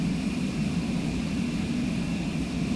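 Steady, droning propeller airplane engine from a flight simulator game, a constant low hum with a faint high whine above it and no variation throughout.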